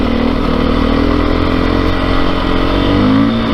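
A 2022 Beta 430 RR-S dirt bike engine drones loud and close while riding, a steady mid-range rumble with slight rises in revs and faint mechanical clatter throughout.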